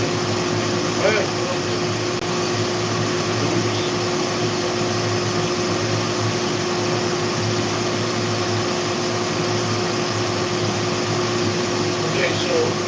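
A vacuum cleaner sucking up wood dust in a wood shop drones steadily and loudly throughout, a constant whining hum with little change, with a voice talking faintly over it.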